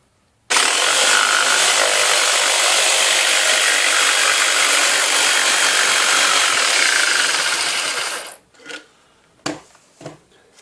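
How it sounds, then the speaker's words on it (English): A jigsaw rips along the grain of a piece of softwood, starting abruptly into a loud, steady high-pitched buzzing cut that runs for about eight seconds, then stops, followed by a few short knocks and handling sounds. "We're going to be cutting with the grain in a piece of softwood."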